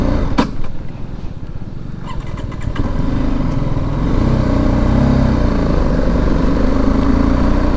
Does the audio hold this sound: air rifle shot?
no